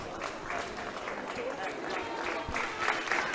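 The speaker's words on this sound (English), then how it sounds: "gets a generous round of applause from the home support" Home supporters applauding a substitute coming on in a Galway versus Donegal National Football League Division 1 match, a steady wash of clapping from the crowd heard under continuous commentary.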